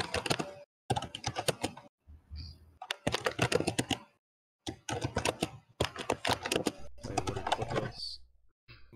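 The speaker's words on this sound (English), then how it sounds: "that typing is right by your mic, I think." Loud typing on a keyboard right beside the microphone, dense clattering bursts of keystrokes broken by short pauses and dominating the sound.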